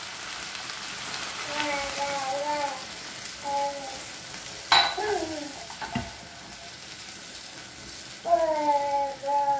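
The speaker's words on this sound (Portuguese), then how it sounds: "Vamos meter a água." Water is poured into a hot cooking pot with meat and potatoes, hissing and sizzling steadily as a broad wash of noise, while a person speaks in between.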